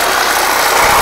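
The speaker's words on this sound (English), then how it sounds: "So we're going to use my favorite wrench to remove the exhaust." A wrench ratchets rapidly while an exhaust is being removed from a Subaru-style project car: a loud, close, continuous clicking of the pawl, running the whole moment without pause.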